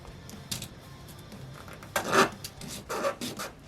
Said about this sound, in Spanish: Limpiamos la pieza y ahora vamos a lijar esta.